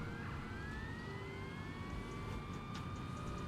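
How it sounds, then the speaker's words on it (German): A fire engine siren in the Firefighting Simulator video game wails in steady rising and falling sweeps, loud and continuous throughout, with no talking over it. "Ich möchte die Sirene einschalten, das Blinklicht."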